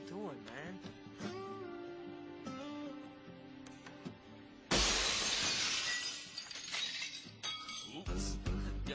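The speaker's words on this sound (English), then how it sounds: "Guess we better go in there and clean up all that glass, huh?" Glass shatters loudly and suddenly partway through a TV drama scene, a sharp crash with tinkling debris that follows background music and quieter moments.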